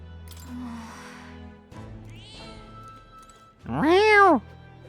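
A cat meowing in the video game Metaphor ReFantazio, one loud, drawn-out meow near the end, after quieter game sounds and a few softer noises.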